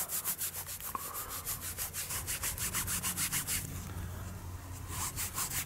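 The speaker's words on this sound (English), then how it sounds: "Now we're going to have to give it a good rub." A mud-caked hammered coin, a Charles I rose farthing dug up in Oxfordshire, rubbed hard between fingers, a fast scratchy back-and-forth scraping in even strokes, close and continuous with no talk.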